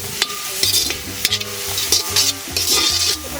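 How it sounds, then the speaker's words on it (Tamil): Chicken cutlets fry in hot oil in a pan over a village cooking fire, with a steady bright sizzle broken by sharp scraping and stirring knocks of a utensil, loud and close. "சரி, நம்ம கட்லெட் வறுப்போமா?"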